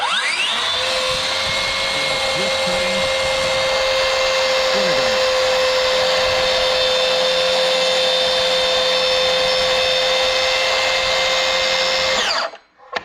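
A tracksaw cuts into its own splinter guard, plunging only a few millimetres. The loud, sustained whine of the electric motor runs steadily for about twelve seconds, then winds down abruptly at the end.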